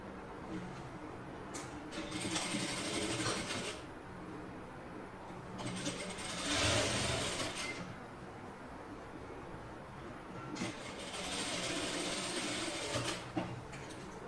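A sewing machine stitches the shoulder seam of a lining piece in three separate runs of steady, whirring rattle, with quiet pauses between them.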